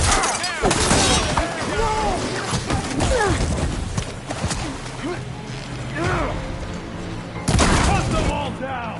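Rifle fire from the video game Horizon Forbidden West: sharp shots and impacts crack through a busy battle mix, with voices shouting over the action and loud bursts near the end.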